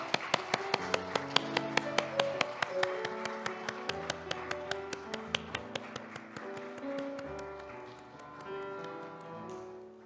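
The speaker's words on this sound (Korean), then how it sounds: "하나님께 영광의 박수 올려드리겠습니다." Church congregation claps in steady rhythm over music, crisp evenly spaced claps carrying for several seconds before tapering off while the music continues alone.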